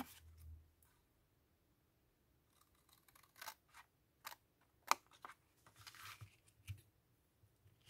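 Quiet snips of scissors cutting paper for scrapbooking, scattered irregularly with soft rustling between cuts, close by.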